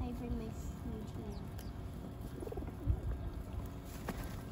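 Birds being fed by hand, with faint chirps and cooing calls scattered over steady background noise and people talking nearby.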